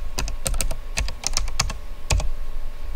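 Fingers tap quickly on a computer keyboard, a close, irregular run of crisp key clicks with brief pauses between bursts.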